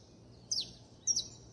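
A freed songbird gives two short, bright chirps about half a second apart, fairly faint over a low background hum, with no voices.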